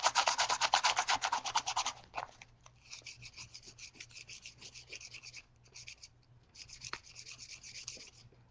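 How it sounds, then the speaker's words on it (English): A twisted wire piece is sanded down by hand, with rapid rhythmic rasping strokes, loud at first, then lighter intermittent scrubbing bursts, close and alone. "I've got to sand it down or it won't show because it's black."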